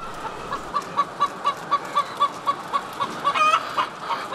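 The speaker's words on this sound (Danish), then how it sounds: "det er en kæmpe fornøjelse at komme ind og se hønsen, de bevæger sig frit omkring" Hens in a free-range henhouse moving about on the floor, slats and perches: a rapid, regular series of close clucks, about four per second, ending in a brief louder squawk over a dull barn hum.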